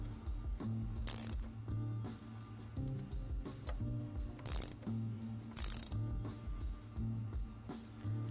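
Ratcheting clicks from a wrench tightening the pinch and disc bolts while fitting a Galfer brake disc, with steady rapid mechanical clicking and short pauses running throughout, close and fairly loud.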